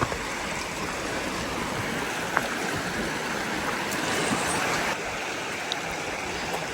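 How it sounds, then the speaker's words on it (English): Water trickles and rushes in a mountain stream at Promised Land State Park in the Poconos, a steady hiss of flowing water close by with occasional small splashes and no voices. "You can hear some water trickling up here somewhere"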